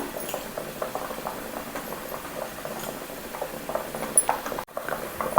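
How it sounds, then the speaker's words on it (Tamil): Gentle bubbling and popping of a hair oil mixture with black cumin boiling in water in a pot over high flame, a continuous soft patter with a brief clink near the end. "ஆயில் ஒரு 10 நிமிஷத்துக்கு தண்ணியில் நல்லா கொதிக்க விடணுங்க"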